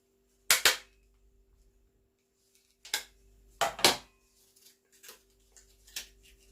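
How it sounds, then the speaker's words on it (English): A stapler snaps sharply several times, driving staples through fabric into plastic, with two loud crisp clacks followed by softer clicks, each separated by quiet pauses. "using the stapler, I'm going to staple as close as I can to the bend"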